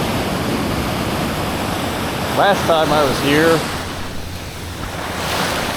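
Pacific Ocean waves and surf at a beach, a steady broadband roar throughout, with someone talking briefly over it midway.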